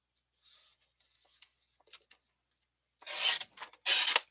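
Cardstock for card making is cut down to 5 1/4 inches. Faint rubbing and scraping is followed by two louder, sharper cutting strokes near the end.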